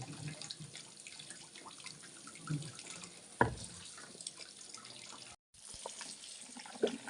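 Vegetables for a mixed vegetable mash are rinsed under a running kitchen tap, with a steady stream of water splashing into the sink and a few brief knocks and drips along the way.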